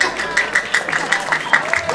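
An audience claps during a Balinese Calonarang temple performance, with scattered bursts of clapping and crowd noise mixed under a performer's voice.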